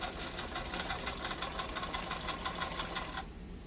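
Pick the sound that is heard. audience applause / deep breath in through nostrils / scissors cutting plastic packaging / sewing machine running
sewing machine running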